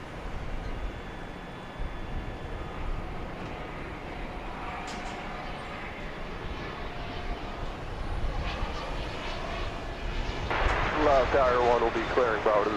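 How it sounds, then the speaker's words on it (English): A Bombardier Challenger 300 business jet at Dallas Love Field at night, a broad steady engine roar that grows louder toward the end, with a voice talking over it. "This is a Bombardier Challenger 300."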